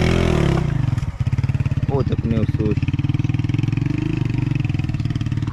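Motorcycle riding a rough, stony mountain road in a village area of Azad Kashmir, its engine chugging in a steady close rhythm with rattling and clatter, while someone talks over it.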